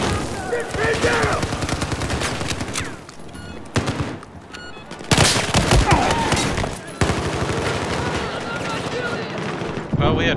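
Gunfire in Battlefield 4 close-quarters multiplayer on Operation Metro, dense rapid automatic bursts and booming shots nearly continuous with short gaps, loud and close, mixed with a talking voice.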